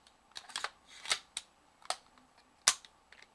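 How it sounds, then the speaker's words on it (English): An AR-15 rifle during a functions check, its dust cover snapping open among a handful of sharp metallic clicks and clacks, close and distinct, with quiet gaps between them. "Dust cover opens."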